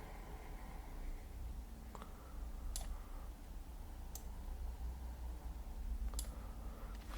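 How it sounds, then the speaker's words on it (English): A computer keyboard's enter key is pressed, giving a few faint, isolated clicks spaced seconds apart over a quiet room hiss, with no speech. "Press the enter key on my keyboard"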